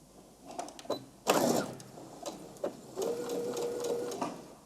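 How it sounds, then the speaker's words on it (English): A sewing machine back stitching a dart on a dress, with a burst of fast stitching followed by a steadier whirring run, close and alone with small mechanical clicks. "Then I do back stitching again."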